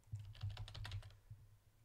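Fingers tap quickly on a computer keyboard at close range, a quiet run of about a dozen clicks in short bursts, with no talk.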